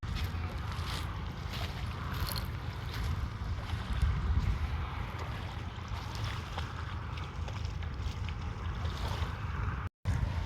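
A boat is paddled on open water, with soft splashes and wind buffeting the microphone throughout, faint voices barely present, and a brief dropout near the end.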